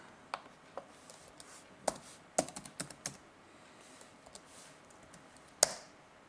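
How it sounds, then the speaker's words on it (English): Sparse, faint clicks from typing on a computer keyboard, a few irregular keystrokes spread across a quiet room with no talking. "So after that, you're going to go to your browser and type in this address."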